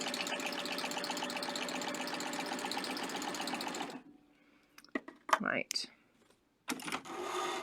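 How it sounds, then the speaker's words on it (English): A serger sewing machine stitches along fabric for gathers, with cording running under the stitch. It whirs steadily and loudly at close range for about four seconds, then stops, followed by a short spoken word and some handling noises. "So I'm just going to stitch along here."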